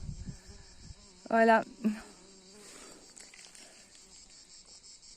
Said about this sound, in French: Je embête quelques abeilles là.